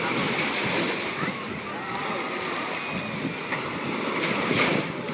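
Sea waves wash onto a beach in a steady, broad roar mixed with wind buffeting the microphone, while voices talk over them.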